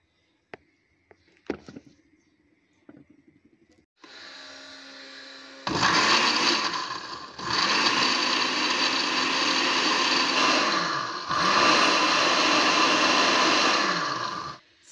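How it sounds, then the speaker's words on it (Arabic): Electric mixer whirring through basbousa batter made with semolina, starting in bursts, then running loud and steady in long stretches with brief pauses between. "هنا غادي نطرب كلشي مزيان حتى كيتخلط لي هاد المكونات هادو"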